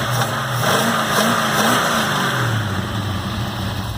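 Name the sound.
Holden VB Commodore engine idling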